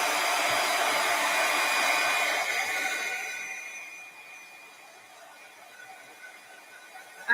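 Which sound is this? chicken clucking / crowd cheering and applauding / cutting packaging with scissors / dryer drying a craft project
dryer drying a craft project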